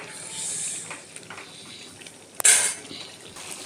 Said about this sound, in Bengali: আর এটা খুব ভালো করে কষাতে হবে।